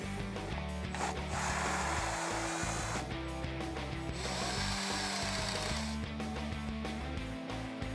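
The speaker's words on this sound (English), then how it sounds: "we're going to remove the 4 Torx bolts around the outside of the headlight retention ring" A power drill with a Torx bit runs in several bursts, backing out the bolts of a Jeep Wrangler JK headlight retention ring, a close, faint whirring with short stops between bolts.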